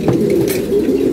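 Pigeons coo in a low, steady murmur, loud and close, with a brief flutter near the middle and no speech.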